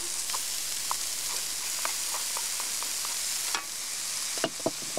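Chopped red onion fries in a pan, a continuous bright sizzle broken by scattered light clicks and pops of stirring, close and alone without talk.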